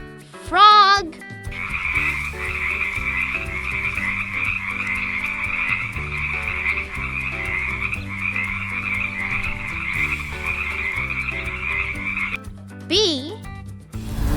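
A frog croaks in a long, steady, rattling chorus that runs loud and close for roughly twelve seconds, framed by short tonal sound effects at the start and end.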